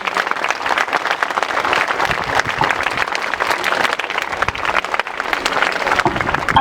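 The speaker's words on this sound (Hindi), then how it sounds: "मैं एक्सपेक्ट कर रही हूँ कि हैप्पी एंडिंग आप जोरदार तालियों के साथ करेंगे" A school audience at a Labour's Day celebration gives loud, sustained applause, many hands clapping together in a dense, continuous wash with no talk over it.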